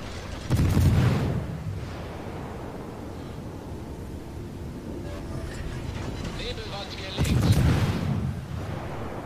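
Naval gunfire in World of Warships: two heavy, booming salvos with rumbling tails about seven seconds apart, loud over a steady wind-like background.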